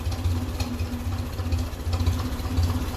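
A 1957 Ferguson 35 TVO tractor engine with a weak coil running rough and spitting, a steady low, uneven idle close by with no voices.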